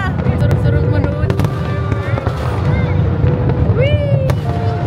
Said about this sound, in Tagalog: Yan na, malapit na ang fireworks.